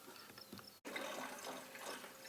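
Water is poured into a car radiator during a drag-car build, giving a soft, close splashing trickle with a brief pause near the start before the flow resumes steadily.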